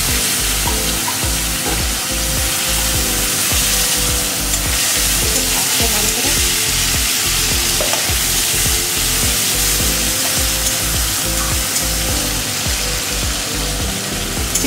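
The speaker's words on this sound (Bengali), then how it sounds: "পেঁয়াজটাকে আমি লাল করে ভাজবো" Sliced onions and a torn bay leaf fry in hot oil in a home kitchen, giving a steady, loud, dense sizzle with frequent stirring clatter throughout and no talk.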